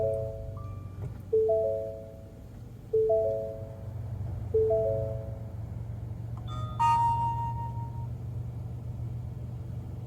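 A 2023 Ford Escape starts up with a repeating series of short electronic chime tones over a low engine hum, followed by a longer, brighter tone near the end.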